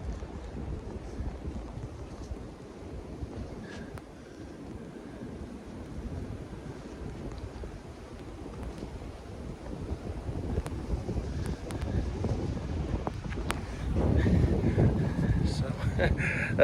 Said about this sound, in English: You can see the wind. I'm sure you can hear it in the video.